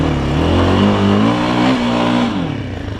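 A GEON X-Road 250 PRO enduro motorcycle engine revs up loudly nearby, its exhaust rising in pitch then easing back down as the throttle closes, with no one talking.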